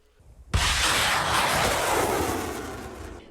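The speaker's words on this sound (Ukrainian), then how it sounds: "кожної лісосмуги лунають постріли далекобійної артилерії" Long-range artillery fires on a front line, one sudden heavy boom at close range followed by a long rolling rumble that slowly fades.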